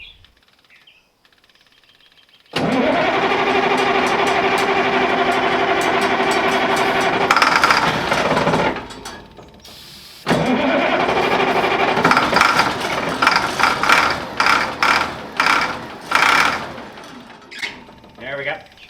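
Starter cranking over the engine of a 1965 Allis Chalmers wheel loader, two sustained loud grinding bursts separated by a short pause, the second one breaking into irregular pulsing toward the end.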